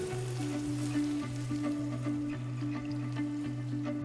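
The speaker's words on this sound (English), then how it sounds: "I've just reduced the heat on this, and we're going to go ahead and fold in our eggs" Eggs folded into a pan of ribeye steak and potatoes fry over reduced heat, making a steady, close sizzle with occasional stirring scrapes throughout.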